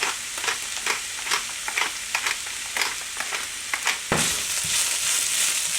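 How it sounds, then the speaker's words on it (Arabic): Minced meat for an eggplant casserole sautéing in a pan, a steady close sizzle broken by repeated stirring scrapes, with the frying growing louder and brighter near the end. "اللحمة احمرت وقعدت اشوحها شوية"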